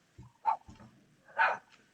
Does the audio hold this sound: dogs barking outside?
yes